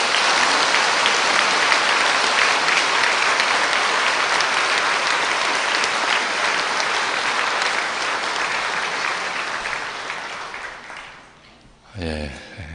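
A church audience welcomes guests from the Kyoto diocese with sustained, loud applause that gradually thins and fades over about twelve seconds, followed by a voice speaking.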